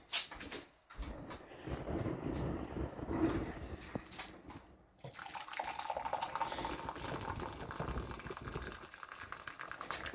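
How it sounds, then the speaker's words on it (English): Hot water running and splashing into a pot of stock made with a cube in a home kitchen, a steady continuous pour lasting several seconds with a brief pause midway, close and moderately loud, with no talking. "we're just going to add in some more hot water to this, just to take it up to about 1 litre"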